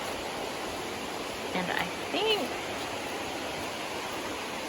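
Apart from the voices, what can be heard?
waterfall on the Chattooga trail near Pigpen Falls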